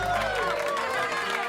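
Crowd cheering in the Final Fantasy Tactics game, a brief, loud burst of massed voices that swells at once and holds, no separate talk.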